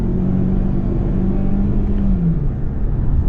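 A Lincoln Corsair engine hums steadily as its 8-speed automatic transmission upshifts, the low drone dipping in pitch partway through, heard loudly from inside the cabin.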